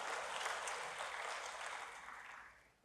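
Church congregation applauding for God, a full, even roll of clapping that holds steady and then fades near the end, somewhat distant in a large room.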